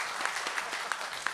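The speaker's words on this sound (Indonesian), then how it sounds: "Tepuk tangan dong." A crowd at a 2010 Jakarta mediation meeting over the Mbah Priok tomb dispute claps together, a short burst of dense, steady applause with a few louder individual claps standing out.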